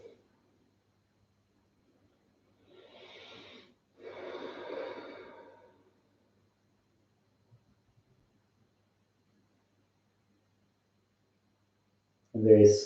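Slow breaths from a person lying curled on their side in a fetal position during a yoga session, two soft, airy exhales a few seconds apart, close and quiet, followed by long silence and a brief voice at the very end.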